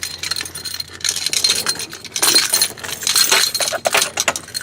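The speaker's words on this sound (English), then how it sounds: "I just love the sound of fucking keys all fucking day." Keys jingle and clink continuously near a vehicle at a body shop, with bright metallic jangling bursts that rise and fall over several seconds, no talking.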